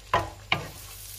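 Garlic dropped into a hot pan of onions and ginger for Filipino dinugoan, two sharp bursts of sizzle and a stir, close, then a continuous frying hiss.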